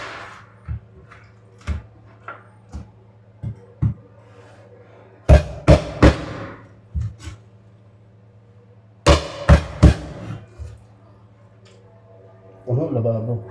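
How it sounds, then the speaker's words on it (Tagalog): Construction work on the floor above sends sharp, irregular hammer knocks and clangs through the room, spaced out at first and then bunching into louder clusters, over a low steady hum with a brief rushing noise at the end. "Yung construction doon sa taas."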